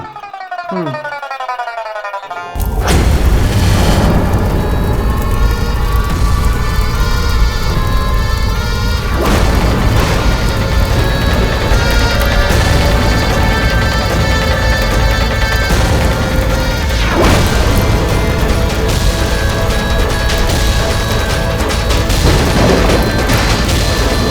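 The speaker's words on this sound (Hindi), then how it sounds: "बादल गरज रहे हैं।" A deep, rumbling roar of thunder bursts in after a brief quieter opening and rolls on loudly, with further crashes swelling every few seconds.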